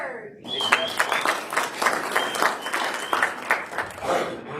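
Audience applause fills a conference room at a security symposium, steady dense clapping for several seconds with a few voices mixed in.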